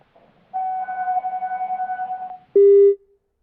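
A phone call cuts off into a pulsing steady tone lasting about two seconds, followed by a short, louder lower beep, alone with no voices.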